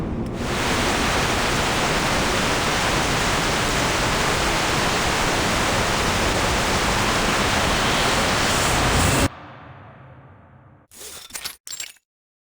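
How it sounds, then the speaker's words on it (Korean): Heavy, dense rain pours in a constant hiss for about nine seconds, then cuts off abruptly to near silence broken by a few short clicks. "빗소리가 들려."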